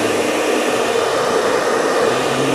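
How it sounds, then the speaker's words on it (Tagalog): Hair blower runs continuously at close range, a steady loud whooshing motor roar, used to heat and soften a sticker on a Rusi Swish Mono 125 motorcycle for removal. "Ang kailangan natin ay eto, hair blower."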